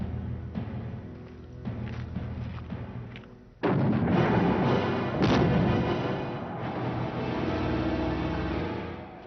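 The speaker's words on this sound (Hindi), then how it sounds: "गोलाबारी बंद कर दी जाए।" Cannon and artillery bombardment during a fort siege in a historical TV drama about Tipu Sultan: a moderate rumble, then a sudden loud burst of heavy, sustained firing and booming that rolls on to the end.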